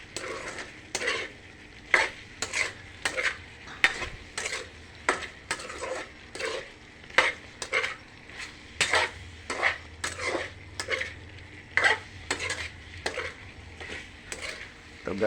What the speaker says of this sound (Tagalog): malapit nang naluto ang ating adobo.